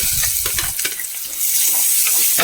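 Small chopped onions sizzle loudly in a pan for a fish chilli curry, a continuous hiss of frying oil with scraping stirs over the top.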